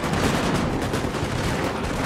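Musket volleys rumble in a Napoleonic battle in Total War: Napoleon, a dense, continuous crackle of overlapping gunfire with heavy low booms, loud and unbroken throughout.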